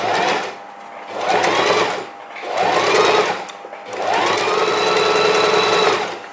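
Sewing machine stitching a quilt with a quilting bar guide, running in four steady bursts of whirring needle motion separated by brief pauses, close and fairly loud.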